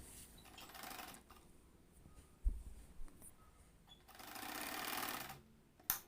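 A sewing machine stitches a blouse panel in two quiet bursts of rapid, even whirring. A pause between them holds a sharp click and a soft thump, and another click ends the run.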